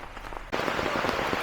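Rain falls outdoors during hanging fence installation, a dense, hissing patter that swells suddenly midway and then holds steady and loud, with no talking.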